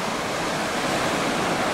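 Ocean surf breaking on a shore, a continuous loud wash of broadband noise with no pauses, heard up close and alone.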